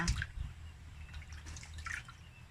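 Water splashing and dripping while a large fish is rinsed before cooking, heard as quiet close drips and small wet sloshes with faint gurgling.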